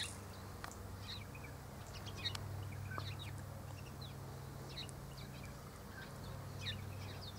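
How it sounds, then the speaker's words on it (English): Sparrows chirp in short, scattered bursts at a distance, faint twittering calls over a low steady background hum. "There are sparrows around, of course."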